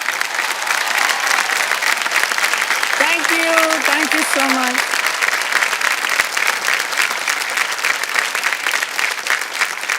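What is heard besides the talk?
applause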